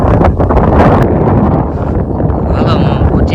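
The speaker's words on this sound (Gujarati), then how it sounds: "હવા બહુ સારી છે. પવન આવે જાજો" Strong wind buffets an outdoor microphone in open country, a steady loud roaring rumble throughout with a voice faintly mixed in.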